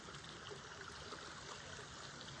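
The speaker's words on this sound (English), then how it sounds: "we have a lot of streams that lead into the creek" A small woodland stream flows into a creek with a faint, continuous watery rush and trickle, steady and distant, with no voices.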